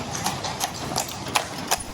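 Hooves of a carriage horse clip-clop on the streets of Bruges, a run of sharp, fairly close hoof strikes in an uneven rhythm over a low background hum.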